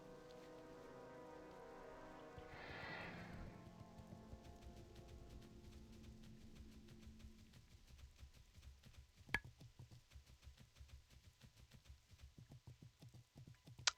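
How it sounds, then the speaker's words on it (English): Rain falls in World of Warcraft Classic as a soft, steady patter under game tones and hoof-like clip-clops, with a few sharp clicks, fairly faint throughout. "ironically, it's raining in game"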